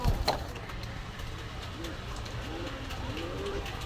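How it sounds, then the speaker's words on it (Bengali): Pigeons cooing at a pigeon market in Gollamari, Khulna, where a pair of Chuithal pigeons is offered, a soft repeated low coo under steady crowd murmur and passing traffic, moderately close. "এই এক পেয়ার কবুতর আছে, খুব সুন্দর কোয়ালিটির কবুতর।"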